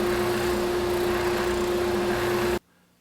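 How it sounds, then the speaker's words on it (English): An oscillating drum sander smooths a rough spot on a wooden napkin ring, its motor giving a loud, steady hum with a constant drone that cuts off abruptly just before the end. "I'm going to go ahead and use my oscillating drum sander to"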